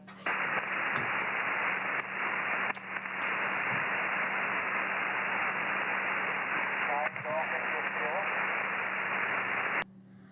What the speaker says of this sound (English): A lot of noise on the band on my end tonight